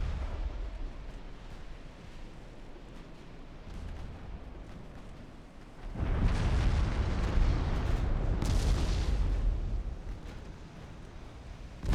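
A naval battle in a video game, with torpedoes striking the warship Lepanto: a constant low rumble of battle swells into a heavy, booming explosion mid-clip that sustains for several seconds, then eases back.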